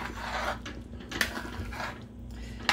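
A utensil stirs potatoes in a cooking pot for Cajun chicken fricassee, giving soft scraping and sloshing strokes with a couple of sharp clinks against the pot's side, close by.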